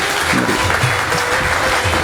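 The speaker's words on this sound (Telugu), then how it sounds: "మెయిన్ మ్యూజిషియన్స్కి ఒకసారి క్లాప్స్ కొట్టాలి ఈ పాట గురించి" An audience claps steadily for the main musicians right after a song, a dense, close burst of applause that holds for the full two seconds with no talk.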